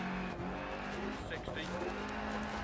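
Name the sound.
rally car driving and sliding in Dirt Rally video game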